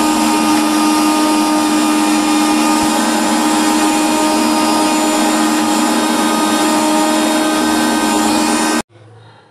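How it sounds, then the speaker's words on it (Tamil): A kitchen blender whirs loudly and continuously, blending fig juice with milk and ice cubes, then cuts off abruptly just before the end, leaving a faint quiet tail. "கூடவே ஐஸ் க்யூப் சேர்த்து நல்லா ப்ளண்ட் பண்ணி எடுத்துக்கலாம்"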